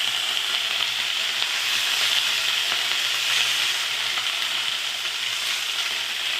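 Mourala fish frying in a greased wok, a steady, dense crackling sizzle that holds evenly loud throughout with no voices over it.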